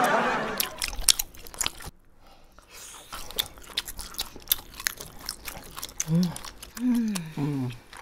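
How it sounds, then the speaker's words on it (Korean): Someone bites and chews beef dipped in salt, with close, soft crunching and chewing between bursts of talking. "소고기에 소금을 찍어 먹습니다."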